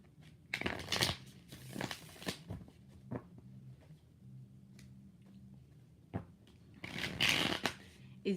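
Tarot cards being shuffled during a live reading, four rounds of riffling that come as bursts of papery flutter and slaps with short gaps between them, fairly close and moderately loud, with no talk over them.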